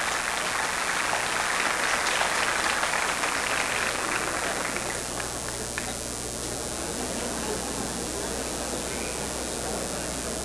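An audience applauds at the Metrô 20-year anniversary ceremony, a dense steady clapping that fills the hall and then thins slightly into a softer, continuing patter.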